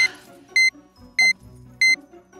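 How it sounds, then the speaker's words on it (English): Three evenly spaced electronic beeps from an oven ring out, each short and piercing, with quiet room noise and low rumble between them. "do you hear beeping coming from in there? Did you turn on the oven?"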